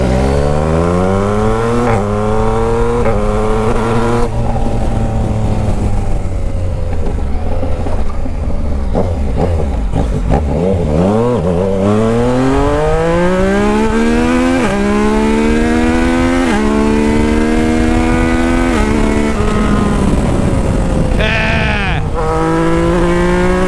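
A 2021 Yamaha Tracer GT engine with a stainless steel 3-into-1 exhaust revs repeatedly, its pitch sweeping up and down in loud, throaty bursts close by, with a brief quieter dip midway.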